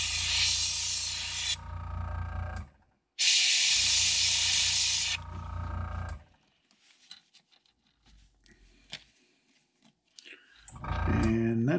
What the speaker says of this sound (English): keep the airbrush pretty close to your work